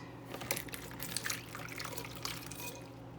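Water pouring and splashing as cooked green beans are drained through a strainer in a kitchen sink, a close, steady trickle with scattered drips and splashes.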